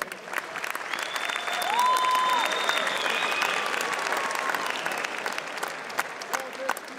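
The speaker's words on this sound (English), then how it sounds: "let's hear a big round of applause once again for both of them" A large crowd at an FFC kickboxing event applauds both fighters after the bout, a steady wash of clapping and cheering with a tonal whistle-like sound rising over it midway.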